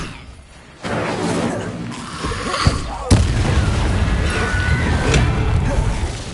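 An Incendio fire spell in the Hogwarts Legacy video game bursts with a sudden loud whoosh, followed by sharp blasts and a rumbling roar of fire, while a voice shouts over it.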